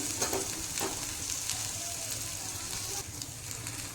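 Green chillies, broken in half, fry in hot oil in a pan with a steady, dense sizzle and crackle throughout, close by with no talk.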